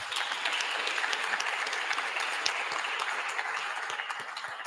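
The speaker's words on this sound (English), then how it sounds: "Now, please give a round of applause for Eric." A startup summit audience claps for Eric at a grand finale event, a steady, even wash of many hands applauding from the crowd for several seconds without a break.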